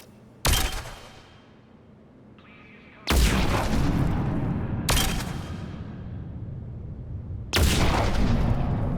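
Heavy booming gunshots, apparently from a video game weapon, fire as a few widely spaced loud blasts, each with a long rumbling tail, over a low background drone.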